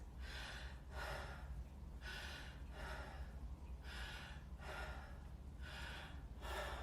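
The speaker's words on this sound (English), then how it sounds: "So stress breathing looks like this." Rapid, forceful stressed breathing demonstrated through the mouth, about six sharp gasping breaths in a steady rhythm, close and fairly loud with no talking.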